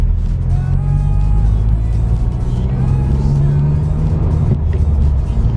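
A Honda Civic Type R on new tires pulls away on gravel, giving a loud, steady low engine drone and road rumble heard from inside the car.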